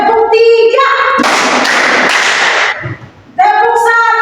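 A class of children clapping a counted rhythm together, the burst of hand claps filling the middle of the clip between stretches of a teacher's voice.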